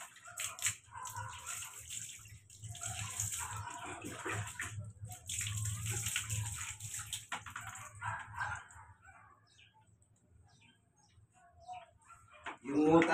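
Water splashes in scattered bursts during an outdoor bath for Summer and Winter, faint and somewhat distant, with a dog barking and birds in the background.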